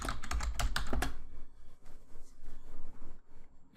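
Fingers type on a computer keyboard to rename a spreadsheet tab, with a quick burst of loud, close clicks at first, then softer, sparser keystrokes fading over a few seconds.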